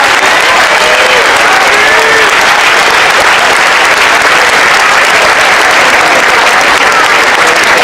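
Sustained applause from a large crowd at a traditional Sardinian mask parade in Nuoro, dense and loud, with many hands clapping steadily throughout.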